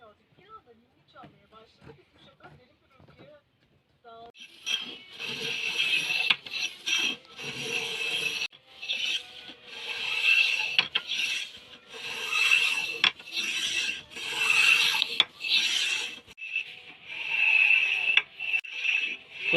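Close rasping and rubbing strokes from a hand plane shaving a wooden arrow shaft, coming in rhythmic bursts after a quiet start with a few faint taps, growing steadier and louder toward the end.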